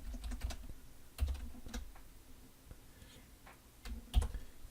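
Fairly quiet typing on a computer keyboard while coding: irregular clusters of light key clicks with short pauses, a couple of sharper louder taps, no speech.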